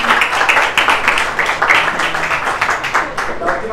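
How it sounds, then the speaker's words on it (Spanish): An audience applauds for Lina Paola Eguita after her Cocinando con Química chemistry-cooking presentation, with dense steady clapping that carries through about four seconds and voices murmuring underneath. "un aplauso para ella"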